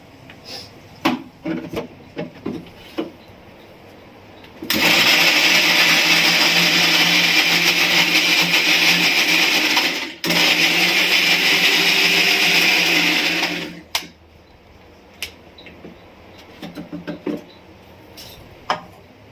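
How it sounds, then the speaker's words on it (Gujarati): Kitchen mixer grinder crushing green chillies and ginger into gravy for a chickpea curry, a loud, steady whirring roar of about nine seconds with one brief stop, framed by faint clicks and handling knocks. "હવે આપણે એને મિક્સરમાં ક્રશ કરી લઈશું."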